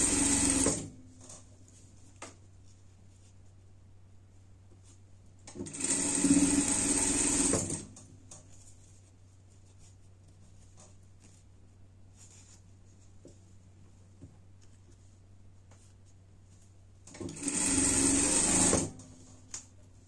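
A sewing machine stitches seams of a camping bed in three separate runs of fast steady whirring, close and clear, with quiet pauses and light handling sounds in between.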